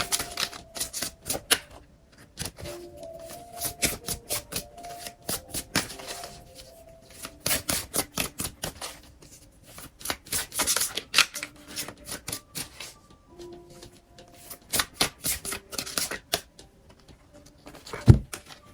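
Tarot cards being shuffled and drawn up close, a dense run of crisp slaps, riffles and flicks in irregular bursts, with a sharp thump near the end.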